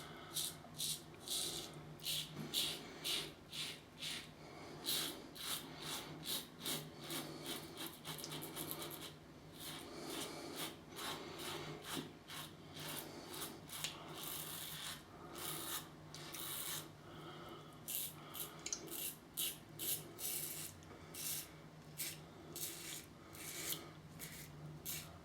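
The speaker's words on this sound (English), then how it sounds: "Yeah, this is a very, very smooth shaving razor." Close, repeated rasping strokes of a smooth shaving razor dragged across beard stubble against the grain, a steady run of short scraping passes with brief gaps, loud and alone.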